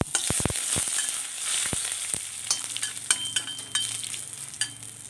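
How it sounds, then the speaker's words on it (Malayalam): Curry leaves and chillies drop into hot oil with browned urad dal for a drumstick leaf dish, setting off a burst of loud crackling and popping that settles into a steady sizzle with occasional stirring clinks, close up, no voices. "ഇനി കറിവേപ്പില ഇട്ട് കൊടുക്കാം അതിൻ്റെ കൂടെ തന്നെ മുളക്"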